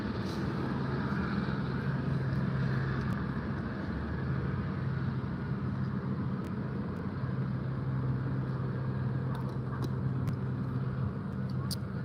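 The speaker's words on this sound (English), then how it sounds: "let me let this loud ass helicopter pass" A helicopter passes over Venice Beach as a loud, steady rotor rumble with a low drone that holds for the whole stretch, close and continuous, alongside faint outdoor background noise.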